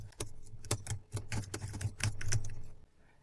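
Quiet keyboard typing on a computer, a quick irregular patter of key clicks lasting a few seconds before trailing off, close and soft with no voices.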